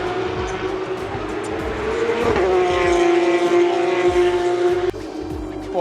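Porsche race cars at the Belgian Grand Prix roar past loudly, a sustained high engine whine with a clear pitch drop as one car passes, amid trackside crowd noise.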